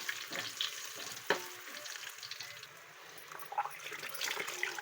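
Whole spices (cinnamon, bay leaf, cardamom, cloves) frying in a pot for basmati rice, stirred with a spoon: a steady close sizzle with scraping strokes and a few sharp clicks of metal against the pot.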